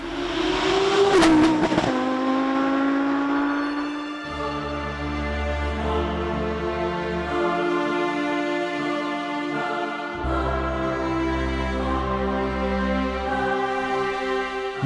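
A car engine revs and accelerates inside the Nationales Automobil Museum in Germany, with a sharp squeal at the start followed by a long, steady, loud engine drone. There is no talking.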